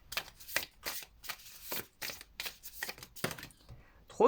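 Tarot cards riffle and snap in quick shuffling bursts, a series of crisp rustling strokes at an irregular rhythm, close and fairly quiet, with a voice speaking between them.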